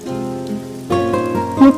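Rain patters under a steady tonal music bed, growing fuller and louder partway through and cresting near the end.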